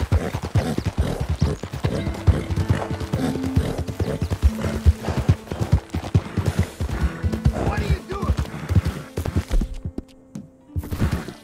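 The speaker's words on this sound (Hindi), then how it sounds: "इस गेम में एक फुल ब्लैक घोड़ा है" A black horse in Red Dead Redemption 2 walks and trots, with rhythmic hoof clip-clops and thuds throughout, and a voice talking over them before a brief quiet near the end.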